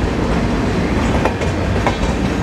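A Patliputra Express from Patna, Bihar, bound for LTT, rolls past with a steady, loud rumble and rhythmic clatter of wagons and wheels, continuous throughout with no voices.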